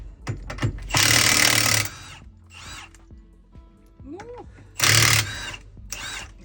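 A cordless impact wrench, in a Dnipro-M versus Milwaukee comparison, fires two loud, close hammering bursts of about a second each, with quieter clicks and mechanical handling noises in between.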